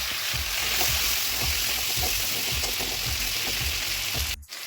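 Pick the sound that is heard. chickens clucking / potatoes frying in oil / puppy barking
potatoes frying in oil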